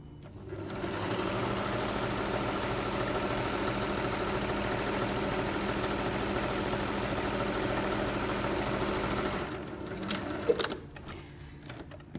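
A sewing machine runs steadily for about ten seconds, stitching the back seam of a fabric drawstring bag with right sides together, then stops, leaving a few light clicks and handling noises.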